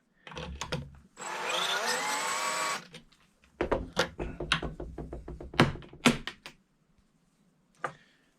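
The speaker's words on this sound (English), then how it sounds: "So now that we are all set up, I can just start trimming away." A case trimmer cuts 224 Valkyrie brass cartridge cases to length: one sustained buzzing whir lasting a couple of seconds, then a quick run of sharp, close metallic clicks and knocks as cases are handled.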